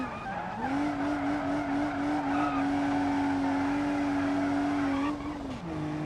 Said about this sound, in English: so smooth to drift, bro